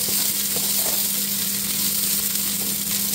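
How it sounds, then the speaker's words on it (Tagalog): Onion and garlic sautéing in hot oil for Filipino-style chicken sopas soup: a steady, close, loud sizzle with faint stirring, and almost no talk. "Gisa muna natin."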